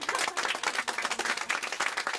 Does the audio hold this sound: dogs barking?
no